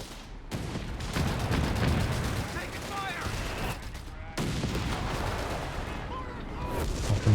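Video game artillery and gunfire in a Company of Heroes 3 match: heavy booms and crackling shots keep coming in dense, overlapping bursts, with a voice talking over the battle.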